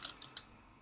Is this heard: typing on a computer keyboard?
yes